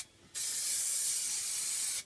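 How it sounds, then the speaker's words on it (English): A steady hiss of aerosol spray bursts on for under two seconds onto material in a VW T25 campervan, then cuts off, close and fairly loud against a quiet background. "Give it a layer of spray."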